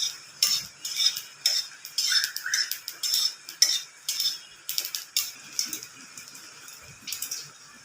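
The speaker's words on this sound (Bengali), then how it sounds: "রসুন আর কাঁচা লঙ্কার সাথে একটু কালো জিরে দিয়ে দেবো, দিয়ে একটু নেড়ে নেব" Garlic, green chili and black cumin stirred in a pan, a spoon scraping and clinking against the metal in steady repeated strokes, close and moderately loud with no talking.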